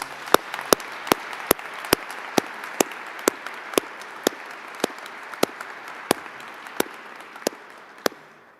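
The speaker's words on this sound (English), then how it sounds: "can we give a round of applause for them?" Sparse applause in a university chapel recognition ceremony, with individual sharp claps standing out at an irregular, fairly steady pace over a soft background of scattered clapping for about eight seconds.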